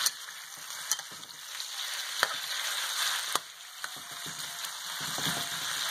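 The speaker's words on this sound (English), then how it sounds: "Stir fry the country ham." Pieces of country ham stir-fry in a hot pan, giving a steady close sizzle broken by sharp clicks and scrapes as the spatula moves the meat around, with no voices.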